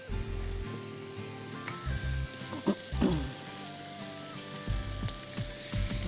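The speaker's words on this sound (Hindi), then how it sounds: "लहसुन डाल देंगे" Garlic added to a hot pan with onions for soy sauce noodles sizzles and fries continuously, close and loud, with intermittent scraping and clinking from stirring.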